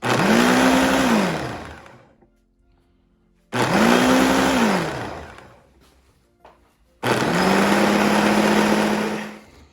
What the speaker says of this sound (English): This blender has smart sense, so it's gonna go through its paces.